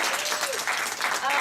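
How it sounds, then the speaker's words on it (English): An audience claps for the day's speakers at a conference, a dense, steady round of applause filling the room without a break. "can we give every speaker today a round of applause"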